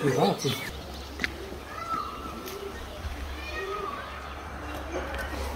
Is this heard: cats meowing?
yes